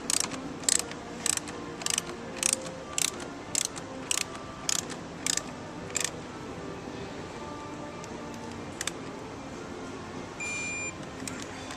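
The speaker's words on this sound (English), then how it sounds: "And torque it down to 28 foot-pounds." A torque wrench tightens a bolt to spec on a motorcycle in a shop, giving a run of about ten sharp, evenly spaced ratcheting clicks up close, followed by a quieter stretch of faint mechanical noise.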